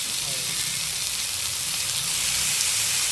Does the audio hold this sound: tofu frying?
yes